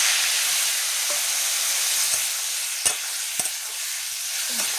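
Spice paste being stirred into frying potatoes for a hilsa fish curry, a constant hissing sizzle with a few sharp scraping taps of the spoon against the pan.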